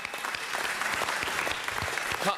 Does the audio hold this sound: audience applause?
yes